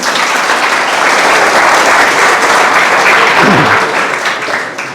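A crowd at an academy gathering claps loudly and steadily for a few seconds, a dense, close burst of applause that thins slightly toward the end.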